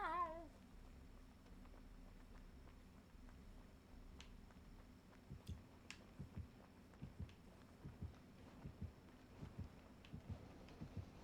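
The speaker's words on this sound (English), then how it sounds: "And now they just want to meow." Meows from cats indoors at the start, a short quivering call, followed by faint scattered taps and thumps in a quiet room.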